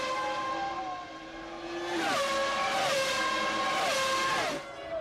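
Formula 1 cars from the 1998 season, with the two Ferraris leading the field, scream past one after another, high engine notes rising and dropping through gear changes, loud and close throughout.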